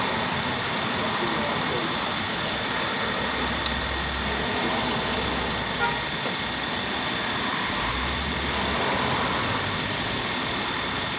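A car engine idles steadily to warm up the transmission, a continuous low rumble holding at the same level from start to finish with no break.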